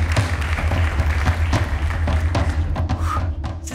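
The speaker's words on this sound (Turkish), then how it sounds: "Alkışlar devam etsin." Studio audience applause on a Turkish family TV game show, a steady dense wash of clapping lasting throughout with a low thumping undertone.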